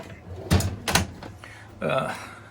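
A cabinet drawer in the rear compartment of an ambulance slides open with a couple of sharp knocks and a sliding rattle, close by, while someone talks.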